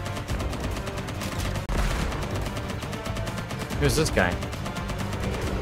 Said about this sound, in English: I picked up machine gun